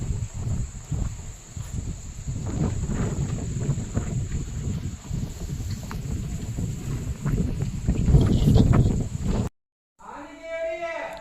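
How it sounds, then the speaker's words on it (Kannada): Loud gusting wind roars and buffets the microphone almost continuously, ending in a sudden cutoff followed by a short burst of different sound. "ಗಾಳಿ ಹೆಂಗೆ ಬಿಟ್ಟೈತಿ ಸೌಂಡ್ ಕೇಳಿಸ್ತಿರ್ಬೇಕು ನಿಮಗೆ"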